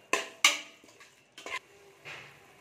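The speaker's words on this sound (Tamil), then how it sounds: "மசாலா போட்டு நல்லா வதக்குங்க" A spatula stirs masala in a pan for egg biryani, giving a few sharp metallic clinks and knocks separated by quiet gaps, followed by a soft scrape.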